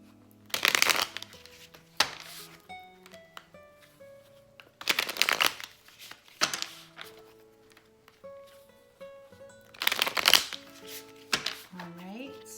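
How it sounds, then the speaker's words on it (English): Cards riffle and shuffle in three quick bursts, close up, with someone talking softly in between. "do a quick little shuffle here"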